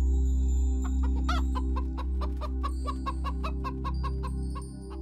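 Chickens cluck repeatedly near a poultry farm, a rapid series of sharp close clucks over a steady low mechanical hum, with one louder squawk early on.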